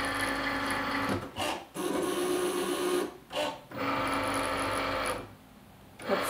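A Cricut Maker cutting machine runs a cut on its mat, giving a close, buzzy mechanical whir in long bursts broken by short pauses as the carriage moves back and forth.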